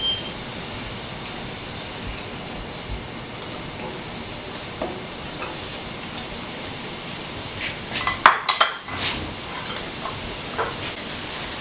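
Fresh dill stir-fried in a pan, a steady loud hiss of steam and sizzle with a brief burst of scraping and clanking from the pan partway through, no talking.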